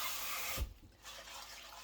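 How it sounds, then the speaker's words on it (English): Cold tap water runs steadily over curly kale being rinsed in a sink, a continuous close hiss of flowing water that briefly dips in a short break before resuming. "I'm going to use cold water and rinse that real well"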